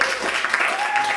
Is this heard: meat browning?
no